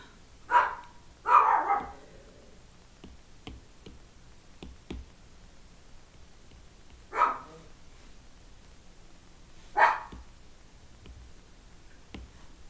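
Baxter the dog barks during a live drawing session indoors, several sharp single barks spaced apart, two close together then isolated ones later, moderately near with faint ticking in the background.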